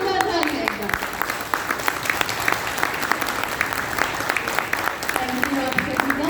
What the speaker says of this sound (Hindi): जोरदार ताली एक बार।